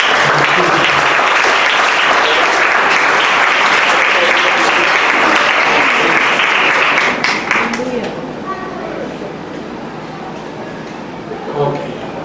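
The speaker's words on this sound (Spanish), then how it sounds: "Den aplauso al Señor." A church congregation breaks into loud, dense applause during a sermon, sustaining it for about eight seconds before it thins out and fades, with some voices audible as it dies down.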